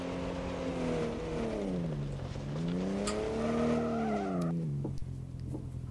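An engine in a car street-driving video game revs and drops in rising and falling sweeps, then cuts off sharply near the end amid a skidding screech, with steady road noise underneath.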